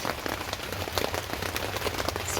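Rain falls on a garden in a dense, close patter, with individual drops ticking and splashing irregularly across a steady wet hiss.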